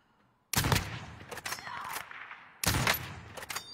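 Video game gunfire comes in two sharp bursts of rapid shots, loud and close, separated by a lull with softer game noise.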